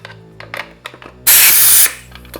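An air-powered vacuum brake bleeder on a Honda VFR800 sport bike gives one loud, steady hiss lasting about half a second once the trigger is pulled, after a few faint clicks and handling noises.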